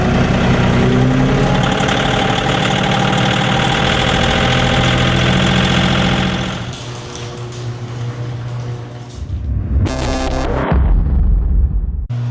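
A John Deere X350 lawn tractor's engine runs loudly and steadily up close, then its pitch and level shift as it changes speed, with a brief surge of mechanical rattle near the end.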